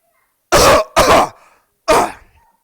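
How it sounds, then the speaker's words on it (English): Someone clears their throat three times in loud, rough bursts, the last after a short pause, with silence between. "Just clear my throat."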